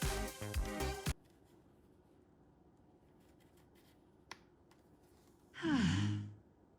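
A small IKEA gadget gives a soft, breathy sigh-like tone as a USB-C cable is plugged in, preceded by brief loud handling clatter and a quiet pause with a tiny click.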